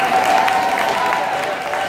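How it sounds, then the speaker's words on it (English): Audience applause at a spring school concert, a steady dense wash of many hands clapping throughout, fairly loud and continuous with a faint murmur of crowd underneath. "Clap them again."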